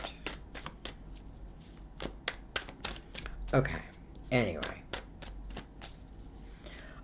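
Tarot cards being shuffled by hand, a series of crisp, close riffling bursts at an irregular rhythm with a couple of longer riffles, under brief quiet talk.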